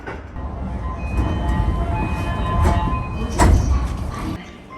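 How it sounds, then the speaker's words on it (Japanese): A JR East train departing Musashi-Kosugi station, with a steady rumble of wheels and motors building and swelling over several seconds, brief clanks and squeals in between, close by and with no talking. "武蔵小杉駅を発車。"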